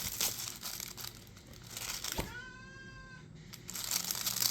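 A house cat gives a single short meow in the middle of soft, close crinkling and rustling handling noise. The meow is faint against the background.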